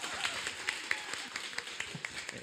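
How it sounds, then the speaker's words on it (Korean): Audience at a church stewardship seminar clapping in a hall: a moderate scatter of hand claps with a few sharper individual claps standing out, mid-distance and unbroken. "우리 박수 치시는 분들 왜 박수 안 치세요?"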